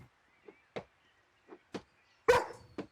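A dog barks in a DimWorld roleplay video game, several short separate yaps spaced irregularly, the fourth one louder and longer than the rest, with no talk over them.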